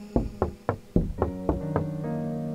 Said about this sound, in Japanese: 戸を叩いてリズムを刻んでいやがるぜ